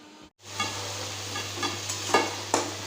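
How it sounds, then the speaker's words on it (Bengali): Potato pieces fry in hot oil, a continuous soft sizzle broken by a few light scraping stirs, with a low steady hum beneath and no speech. "তারপরে ডিমের জন্য আলুটা ভেজে নিচ্ছি।"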